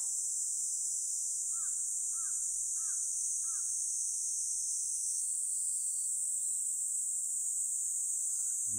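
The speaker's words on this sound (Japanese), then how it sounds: "虫の鳴き声とセミの鳴き声と" Cicadas and other insects drone in a steady, loud, high-pitched buzz throughout, beside a pond of blooming lotus flowers in Kameoka, Japan. A few short, separate bird-like calls sound early on. No one speaks.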